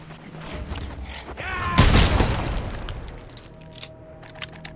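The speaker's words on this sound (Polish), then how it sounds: "Celowanie i strzał." A gunshot fired in the Mad Max video game lands as a loud crack at about two seconds, with a short echoing tail that fades over a busy game backdrop.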